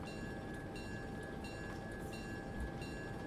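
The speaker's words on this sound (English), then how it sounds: "it doesn't matter because it's a diesel locomotive" An Alco RS1 diesel locomotive in the Railroader video game rumbles steadily with a constant engine drone and a high whine, its clear, continuous running sound heard alone with no talk.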